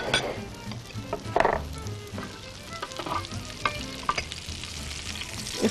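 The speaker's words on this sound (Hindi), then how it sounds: "कमरकस हम फ्राई करेंगे" Kamarkas frying in a pan for keema kabab, a soft steady sizzle with occasional louder pops and stirring clatter, close by, with no voices.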